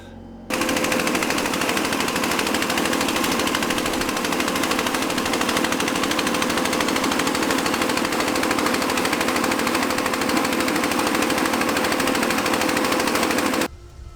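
A loud, continuous mechanical grinding drone runs steadily for about thirteen seconds with a constant whine, starting and stopping abruptly, as a power sander works close by on a sailboat hull bottom with blisters.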